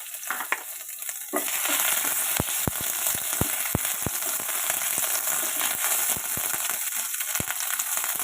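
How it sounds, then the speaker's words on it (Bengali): Tempering spices frying in hot oil for sago khichuri, a steady close sizzle with repeated sharp crackles and pops over several seconds, with no talk. "ফোড়নটা একটু ভাজা ভাজা করে নেব।"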